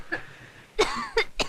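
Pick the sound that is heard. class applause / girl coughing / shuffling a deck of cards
girl coughing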